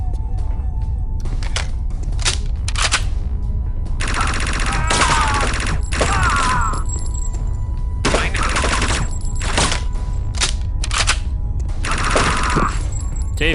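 Gunfire in the video game Chaser: repeated loud bursts of automatic shots in clusters of varying length, separated by brief lulls, over steady background game rumble.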